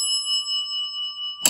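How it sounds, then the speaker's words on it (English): A Houghton elevator bell wired to a residential Adams call station rings one clear, sustained metallic ding that hums evenly for over a second, then ends in a short clattering strike. "And it's wired to this Houghton bell right here."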